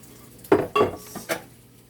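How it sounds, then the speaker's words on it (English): Cooked beef kidneys are drained in a colander. There are three or four close clanks of pot and colander, with faint splashing and no talk. "I just drain it off in a colander, and then I season it up."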